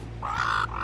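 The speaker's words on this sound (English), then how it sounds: "that's a seagull making that sound" A seagull gives a single short harsh call near the water, a raspy squawk with a brief break in the middle, moderately close, with no talk.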